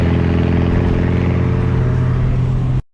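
A 550 hp built Nissan Skyline R33 with an RB25DET engine: its exhaust rumbles loud and close with a deep, throaty note, held steady before cutting off abruptly.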